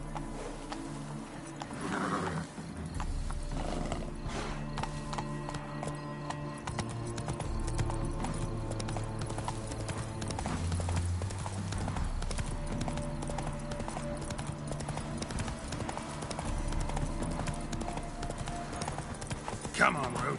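Roach, a horse in the video game The Witcher 3, gallops in a fast steady clip-clop of hooves over a game music bed, with someone talking over it now and then.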